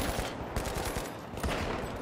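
Dense bursts of automatic gunfire from The Finals, an online shooter, crackle steadily through the scene with a few stronger shots standing out, fairly loud and continuous.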